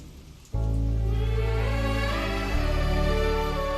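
Steady rain falls in a continuous, even wash that suddenly swells in at the start and holds throughout, with a sustained musical drone underneath and no talking, set in an Indian television drama.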